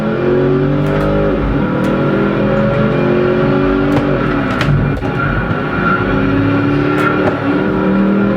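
A race car engine from the driving video game Project Gotham Racing 2 holds a steady, loud roar with rising and falling revs as gears shift, with no talk over it.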